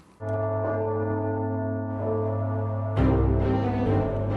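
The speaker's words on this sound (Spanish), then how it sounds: "Hoy, Europa ya está acostumbrada al sagrado ruido de las campanas." A deep bell tolls with a long ringing hum, then a second strike layers in, the resonant tones sustaining loudly with no voices.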